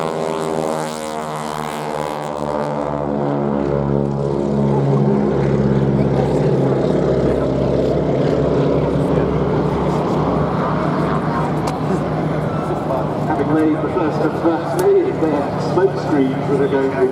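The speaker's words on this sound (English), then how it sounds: "here go the two Boeing Stearman" Two Boeing Stearman A-75 biplanes fly past at the Duxford airshow, their radial engines giving a loud, steady propeller drone with harmonic overtones that holds throughout, while a commentator talks over the public address.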